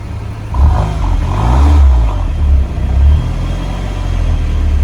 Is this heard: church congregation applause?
no